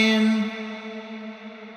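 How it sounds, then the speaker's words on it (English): A Valhalla reverb tail on a grouped vocal bus in an alternative R&B/pop mix rings out after the singing stops, a bright sustained wash that slowly decays over almost two seconds. "I threw in this Valhalla reverb on the whole group of the vocals"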